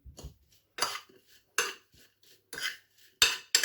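A spoon stirs fresh strawberries and sugar in a bowl, making five soft scraping clinks at an even pace, close and fairly quiet, with no talking.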